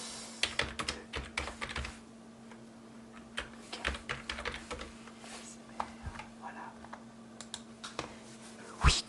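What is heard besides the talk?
computer keyboard keys typing, ASMR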